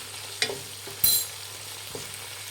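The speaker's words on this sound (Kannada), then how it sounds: "ಒಂದು ಅರ್ಧ ಟೇಬಲ್ ಸ್ಪೂನ್ ಶುಂಠಿ ಬೆಳ್ಳುಳ್ಳಿ ಪೇಸ್ಟ್ ಹಾಕ್ಕೊಳ್ಳಿ. ಫ್ರೆಂಡ್ಸ್ ಫ್ರೈ ಮಾಡಿ." Ginger garlic paste frying with onions in a pan gives a faint low sizzle, broken by a few sharp scrapes and clinks of a spoon against the pan, close and quiet.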